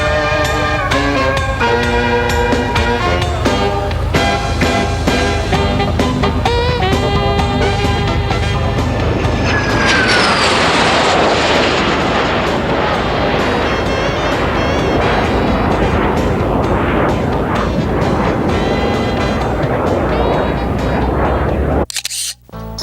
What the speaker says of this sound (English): This was the aircraft's maiden flight following restoration, and Mike Keenum made it a good one.